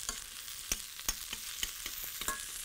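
White onions sizzle loudly in a very hot pan with a constant hiss and sharp crackling pops, plus occasional stirring knocks close by, no voices.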